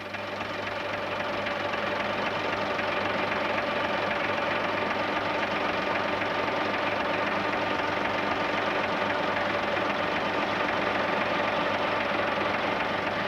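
A Volvo truck fitted with an EKÅ wrecker body runs its engine steadily while the crane boom lifts a tractor onto a trailer, a constant loud diesel drone with a faint rhythmic knock and no pauses.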